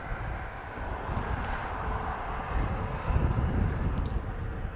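An airliner departing Lisbon Airport bound for Charleston, a broad steady jet engine roar heard from a distance that swells slightly toward the end, with no talking.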